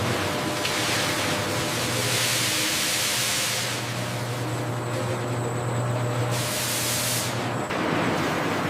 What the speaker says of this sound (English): Airjet nozzles firing precisely to push off-color material into side chutes